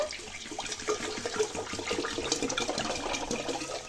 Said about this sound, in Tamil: தண்ணி நல்லா ஆட் பண்ணிக்கலாம்.